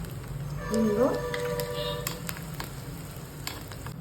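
Dry red chillies sizzle in hot oil for a tadka, a steady frying crackle running under a person talking throughout.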